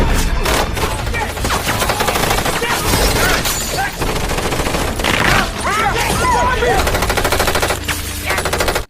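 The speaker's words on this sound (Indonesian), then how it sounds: "orang-orang suruhan dari Vic berdatangan lalu menghujani peluru ke arah mereka" Dense automatic gunfire in a film scene as hired gunmen rain bullets on people: loud, rapid bursts of shots run almost without pause through the whole stretch, with heavier booms and a scoring bed beneath.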